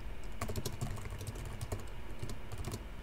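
Code being typed on a computer keyboard, quick close key clicks in short irregular bursts with brief pauses, quiet and alone without talk.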